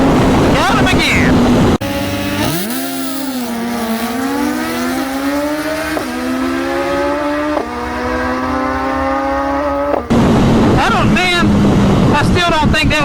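A 2022 Suzuki Hayabusa motorcycle launches down a drag strip, its loud engine revving hard through several upshifts with rising, briefly dipping pitch, framed by wind-blown noise before and after the pass.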